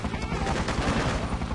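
Sustained gunfire in the Freedom Fighters video game during a raid on a power plant, a dense continuous fusillade of shots with no gaps, loud and close throughout.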